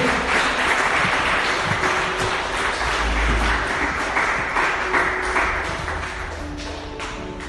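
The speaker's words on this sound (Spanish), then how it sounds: "denle un aplauso bien fuerte al Rey de Reyes y Señor de Señores" A church congregation applauds at a Spanish-language service, a dense and sustained wash of many hands clapping close and loud, easing slightly toward the end.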